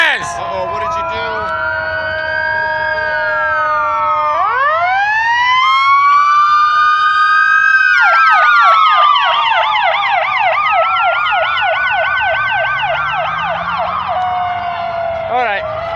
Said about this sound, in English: Look at that, somebody called the ambulance!